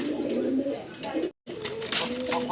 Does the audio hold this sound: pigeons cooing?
yes